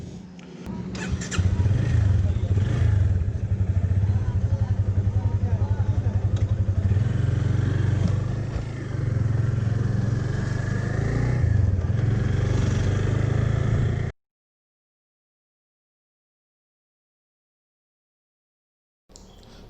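A Yamaha FZ25 motorcycle on a solo highway ride drones with a steady engine note and wind rumble for about fourteen seconds and then cuts to silence, loud and close, with faint clatter.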